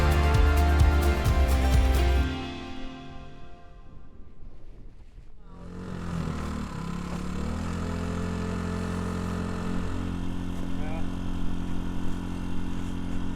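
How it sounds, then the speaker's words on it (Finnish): A small generator running to charge batteries on an electric fat-bike trek toward Halti, its steady engine drone holding continuously after a loud, tonal opening burst, fairly close and prominent throughout. "Pieni aggregaatti, jolla saadaan akut täyteen."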